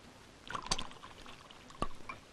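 More arrack splashed into a glass: brief close trickles and drips, with two sharp little clinks of the bottle against the glass about a second apart, all faint against a quiet room.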